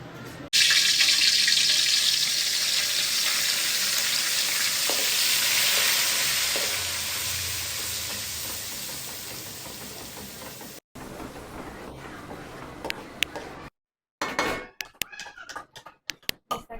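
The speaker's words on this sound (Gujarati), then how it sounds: "અહીંયા આપણે ભાજીનો વઘાર સ્ટાર્ટ થઈ ગયો છે અને પહેલાં આપણે નાખી છે લસણની ગ્રેવી" A bhaji tempering, with garlic gravy dropped into hot oil, sizzles as a loud, steady hiss for about ten seconds and then fades. Quieter scattered clicks and stirring sounds follow, broken by short silent gaps.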